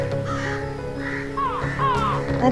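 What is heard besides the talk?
crows cawing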